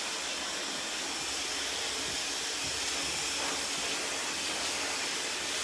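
Hair dryer with a nozzle blowing during a salon haircut, a steady broadband whooshing roar that stays close and continuous throughout, with no speech.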